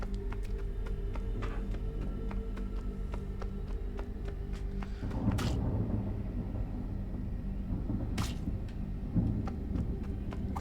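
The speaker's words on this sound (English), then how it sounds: "That's some fucking thunder" Thunder in the video game Thank Goodness You're Here!, a low rolling rumble under steady rain-like noise, swelling into heavier surges partway through.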